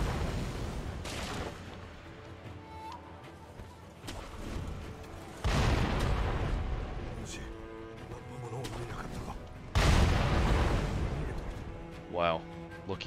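Enemy cannon fire in the video game Fallout: heavy booming blasts land near 5.5 and 9.8 seconds over a continuous rumble of game noise, with smaller impacts in between and a voice talking over the action.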